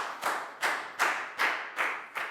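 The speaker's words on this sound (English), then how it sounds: "a big round of applause for Lakau" A class of Year 4 pupils claps for a classmate in a school English lesson, six sharp bursts of group clapping in a steady rhythm, close and fairly loud.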